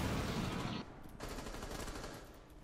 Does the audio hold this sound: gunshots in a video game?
yes